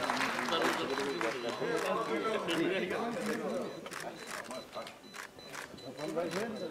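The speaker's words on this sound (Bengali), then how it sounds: "সবাই করতালি দিয়ে আমার সাথে চলুন।" An audience applauds at a film club ceremony honouring freedom fighters, steady dense clapping throughout with a loud voice talking over it.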